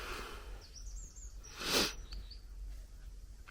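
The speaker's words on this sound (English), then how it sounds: "I woke up to the sound of birds," Faint birds chirp and twitter in the distance at a campsite around 8 a.m., over a quiet background hiss, with a short soft rush of noise in the middle.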